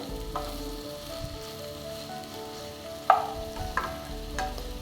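Okra sizzles and crackles steadily as it fries in an open pan, with a few louder clinks and stirs against the pan partway through; no one speaks.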